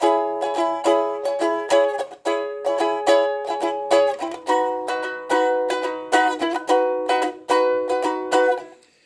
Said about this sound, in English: Now this has got a really cool strumming pattern.